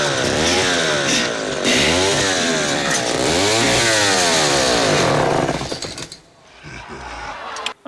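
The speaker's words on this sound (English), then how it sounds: "Such as a motherfucking chainsaw!" A chainsaw roars loudly close by, its pitch rising and falling as it revs repeatedly, then it cuts out into a quieter rumble.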